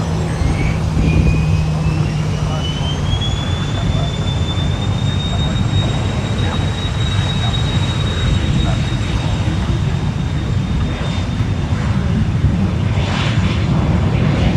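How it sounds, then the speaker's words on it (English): An airplane taking off at Fort Lauderdale airport gives a loud, continuous jet roar with a rising and then steadying engine whine, heard close and sustained for the whole stretch. "That was a really fast takeoff."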